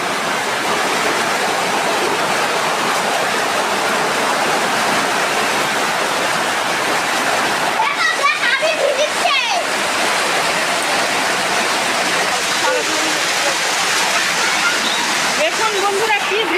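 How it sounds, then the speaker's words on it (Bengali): Heavy rain pours down steadily outdoors in a rural field area, a dense continuous rushing hiss throughout, with brief faint voices partway through. "দেখুন বন্ধুরা কি বৃষ্টি আসে আসছে দেখুন।"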